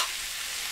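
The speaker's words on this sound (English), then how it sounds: "listen to that nice sizzle" Corn kernels frying in a hot pan for a bacon and cheddar corn salad, a steady bright hissing sizzle, close and continuous with no voices.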